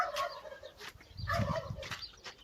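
Turkey hens off their brooding nest give short gobbling, clucking calls in a few bursts over two seconds, close by and moderately loud with no talk.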